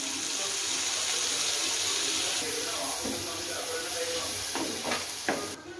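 Water poured into a pan of egg masala on the stove, a steady broadband hiss and gush that fills the clip, with a few brief clinks near the end.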